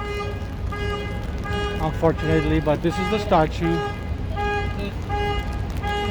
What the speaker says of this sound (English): you can hear somebody blowing the horn behind me